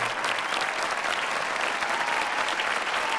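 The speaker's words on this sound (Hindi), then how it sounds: "तालियां बजाकर इस्तकबाल।" An audience at a live mushaira poetry gathering applauds to welcome a poet onto the stage, with full sustained clapping from a sizeable crowd that stays loud and even throughout, and no speech over it.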